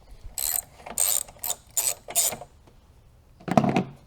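A ratchet wrench undoes the nuts on a car battery clamp, giving five quick clicking bursts in an even rhythm, a short pause, then one louder final burst, all close up.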